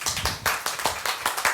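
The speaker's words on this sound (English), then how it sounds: "We can give her applause." Applause from a small audience at a talk: about eight distinct, fairly close bursts of hand clapping in quick succession, sparse enough that individual claps stand out.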